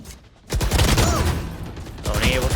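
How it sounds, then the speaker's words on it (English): Rapid popping bursts from a Swarm grenade in Valorant, loud and continuous after a quiet start, with a brief dip before another cluster of shots. "Swarm grenade out."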